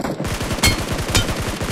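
Rapid automatic gunfire in the BGMI battle royale game, a dense close stream of shots firing continuously, with two slightly louder cracks standing out.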